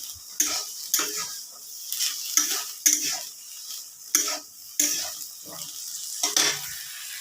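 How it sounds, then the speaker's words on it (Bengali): Green peas are stirred into spice masala frying in a pan, giving a sizzle broken by regular scraping spoon strokes against the metal about every half second, close and fairly loud. "মশলা অনেক কষানো হয়ে যাচ্ছে। তো এবার আমি যে মটরশুঁটিগুলো দিয়ে দিচ্ছি।"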